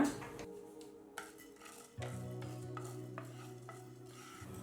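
Coriander seeds dry-roasting in a pan while being stirred, quiet scraping and rattling of the spoon against the pan in short bursts over a faint continuous hum.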